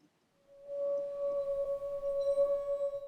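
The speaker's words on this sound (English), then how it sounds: "Take a wine glass." A wine glass rings with a steady, pure sustained tone that swells in and holds for a few seconds, clear and alone with no talk.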